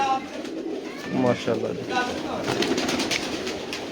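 Red pigeons coo close by in a steady murmur while someone speaks briefly over them.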